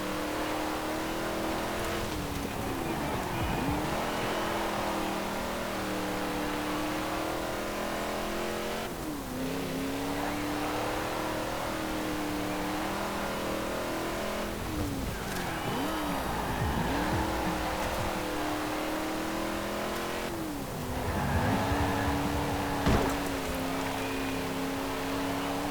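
A race car engine in Forza Horizon 4 revs and shifts steadily through a lap, rising and falling in pitch with brief tire squeals and skids. The engine stays loud and close throughout, with no talking.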